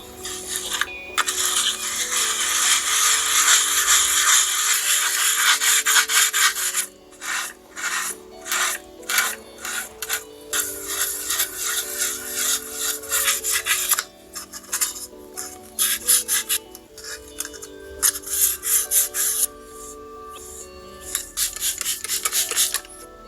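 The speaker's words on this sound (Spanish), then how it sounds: "lo mejor es esparcir la tinta con un trozo de papel o con un trozo de cartón para evitar un posible accidente" Paper or cardboard is rubbed and scraped across an inked drypoint printing plate, a close, dry, rasping sound in long continuous strokes that break into rapid choppy passes, loud and steady with no talking.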